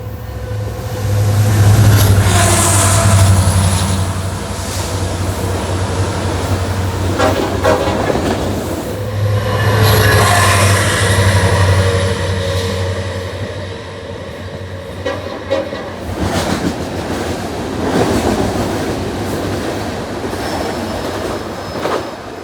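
An SD70 Mac diesel locomotive passing close by, a loud steady rumble with several long horn blasts and rattling, clacking cars, and wheel squeal later on.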